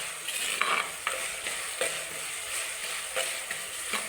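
Ingredients for a Kerala fish curry sautéing in oil, a close steady sizzle broken by repeated spatula scrapes against the pan at an uneven rhythm, with no one speaking.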